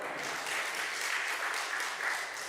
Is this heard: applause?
yes